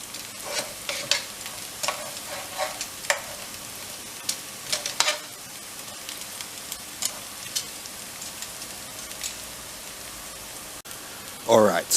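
Carrots, spring onion and celery frying in a pan give a steady soft sizzle, broken by repeated scraping stirs and clinks, with a louder clatter right at the end.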